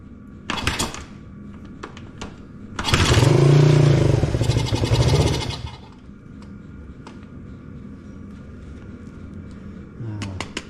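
A Honda CB125 Twin motorcycle engine being cranked in an attempt to start it gives a loud mechanical whirring burst of a few seconds, framed by scattered clicks and clatter.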